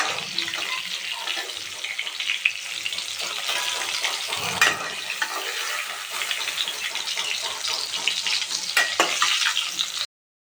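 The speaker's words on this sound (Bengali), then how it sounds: "ওই তেলেতে আমি দুটো তেজপাতা দিয়ে দিলাম আর অল্প করে 5 ফোড়ন দিয়ে দিলাম।" Hot oil sizzles steadily and close as two bay leaves and a little five-spice are dropped into the pan, with soft crackles and a few brief stirring clinks, and no voices.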